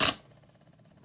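A single crisp snip of scissors or a cutter slicing through card paper during a card and hot cocoa holder craft, a short sharp burst close to the mic, then near silence.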